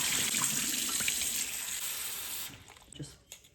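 Tap water runs steadily into a sink for a couple of seconds as potatoes are washed, then stops, leaving a few faint drips and clinks.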